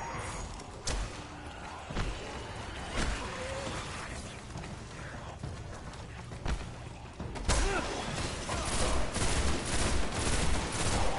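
Gunfire in the video game Destiny, with sharp shots cracking in an irregular rhythm, separated by a few seconds, then a denser, louder burst of rapid fire toward the end, no talking.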